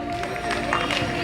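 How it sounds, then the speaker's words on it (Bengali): Audience applause at a stage felicitation ceremony for a dance school's Agamoni celebration: dense, steady clapping from a crowd across the whole moment, mixed with a faint sustained musical tone. "একটু জোরে হাততালি।"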